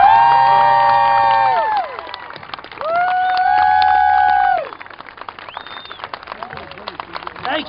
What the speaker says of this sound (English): Wow, what a great crowd.